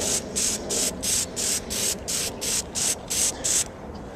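Plasti Dip spray can sputtering while coating a Jeep grill, the can going cold: about eleven hissing bursts in a steady pulsing rhythm, close and fairly loud, then the spray cuts off.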